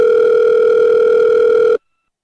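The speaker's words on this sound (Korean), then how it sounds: "전화를 한번 해봐야 되겠네." A loud, steady telephone dial tone drones evenly for nearly two seconds, then cuts off abruptly into silence.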